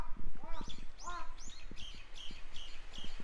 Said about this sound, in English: I just had a crow, and it's literally right above me right now, and it sounds just like a human